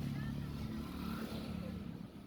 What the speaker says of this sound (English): many cars and motorcycles going down and up